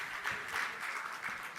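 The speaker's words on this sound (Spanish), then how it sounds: "Un aplauso para los panelistas" Audience applause for panelists at a mining industry panel discussion, a soft continuous patter of clapping heard from some distance with no talking over it.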